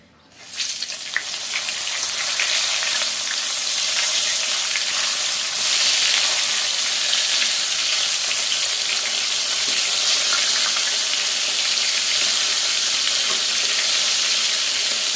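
Eggplant slices fry in hot oil with a loud, steady sizzle that jumps up after a quiet first second and then holds strong throughout, close by and with no voices.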